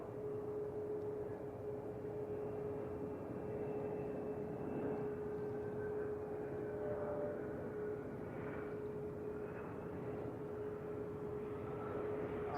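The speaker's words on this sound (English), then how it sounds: "Next for arrival is going to be a Southwest Boeing 737 MAX 8," A Southwest Boeing 737 MAX 8 arriving at San Francisco airport sounds as a faint, distant, steady drone with a thin sustained engine whine over low rumble.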